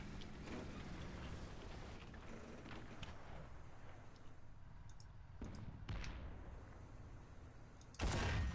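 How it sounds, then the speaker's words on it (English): Explosions and gunfire in the War Thunder tank battle game with an SU-85, faint distant rumbling booms and scattered cracks, ending in a sudden louder blast. "There seems to be a lot of explosions."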